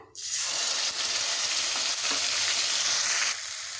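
Onion paste fries in hot oil with whole garam masala, cardamom, cinnamon, cloves and cumin seeds for an egg curry, giving a steady, close, loud sizzle that runs unbroken with no talking.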